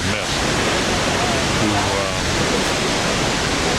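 An Icelandic waterfall throws up mist and roars in a loud, dense, continuous rush of water, close and unbroken.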